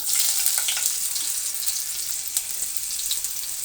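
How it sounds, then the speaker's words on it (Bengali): Bay leaves, dried chilies and garlic sizzle and crackle in hot oil, a close, steady bright frying hiss with scattered pops. "এখানে দুটো তেজপাতা ফোড়ন দিয়ে দিলাম, দুটো শুকনো মরিচ দিয়ে দিলাম, কিছুটা রসুন কুচি দিয়ে দিব"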